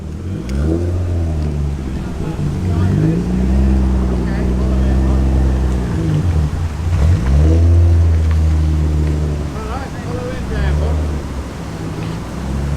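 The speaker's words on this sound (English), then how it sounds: "Nice meaty V6 burble in the XR4i." A Ford Sierra XR4i with its V6 engine burbling at a car meet, a deep, steady low rumble with a couple of blips of revving, close and loud, with crowd chatter faintly around it.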